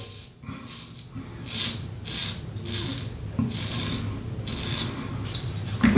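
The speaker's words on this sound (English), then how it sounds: "You can hear it cutting. You can hear it shaving." A Pearl single-edge safety razor scrapes through stubborn cheek stubble in close, crisp rasping strokes, about seven distinct passes with short pauses between them, heard alone.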